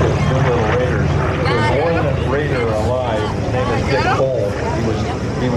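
A B-25 Mitchell bomber at an airshow, its twin radial propeller engines producing a loud, continuous throbbing roar with wavering pitch, heard close and under a speaking voice.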